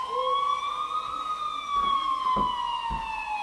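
A wailing siren rises and falls steadily, sounding somewhat distant over a low rumble, with a few faint thumps.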